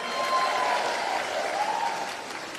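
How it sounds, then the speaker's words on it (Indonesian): Crowd applause and cheering at a large outdoor political rally for vice-presidential candidate Muhaimin Iskandar, a dense steady wash of clapping that holds at even loudness throughout, with faint voices mixed in. "Tepuk tangan untuk semuanya."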